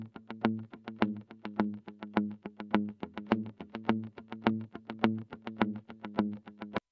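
Two processed electric guitars play together in a pop mix, chugging out a tight, evenly pulsing rhythm of short repeated chords, with no talking over them.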